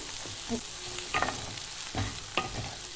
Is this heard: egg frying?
yes